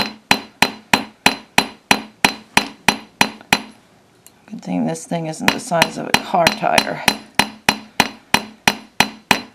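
A riveting hammer driven by a machine strikes a metal hook-and-eye jewelry clasp in rapid, steady taps, about two per second, pausing briefly while a person speaks before the close, ringing metallic blows resume.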